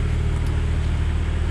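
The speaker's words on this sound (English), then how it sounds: "This is a factory exhaust, and they did a muffler delete." Idling engine of a 2001 Ford F350 running through the factory exhaust with the muffler deleted, a steady, deep rumble that holds even and close throughout.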